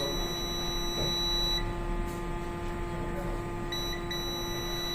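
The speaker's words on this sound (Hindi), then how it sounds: "हो सकता है इनका भी प्रॉब्लम हो सकता है, इनकी वजह से ये बीप कर रहा है।" An MSI B450M PRO-VDH motherboard with a no-display fault beeps in a steady, continuous tone. A low electrical hum sits beneath it, with faint background noise and no talk.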